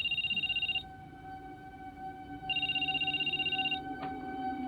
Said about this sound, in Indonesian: Saat ditelepon, ternyata HP-nya berdering di belakang kursi tengah.